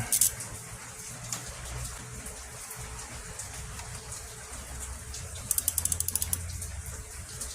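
Clicking ratchet pawl running bolts down on a Dodge Durango oil cooler, with a faint mechanical rattle through most of the clip and a quick, close burst of ratchet clicks near the end.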